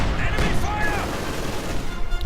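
MG42 machine gun fire in the Company of Heroes 2 real-time strategy game, dense continuous battle gunfire and explosions mixed with a commentator speaking over it.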